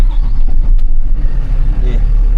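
A car engine runs with a heavy low rumble close by, idling steadily right after starting, with no voices over it.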